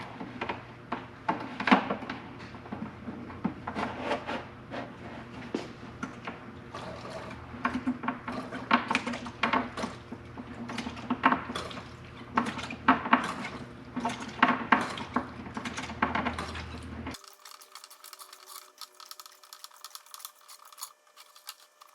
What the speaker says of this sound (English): all I have to do is pump this fluid. Wish I had a better pump.